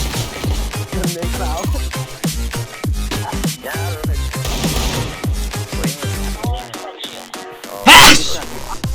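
One sharp, loud sneeze bursts out near the end, amid excited Thai chatter from players in a game of CS:GO.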